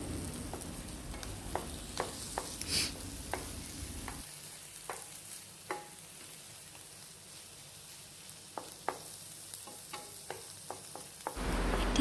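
Chopped tomatoes sizzle softly in a pan for a chicken curry with peanut, with a steady low frying hiss and scattered clicks of a utensil stirring against the pan.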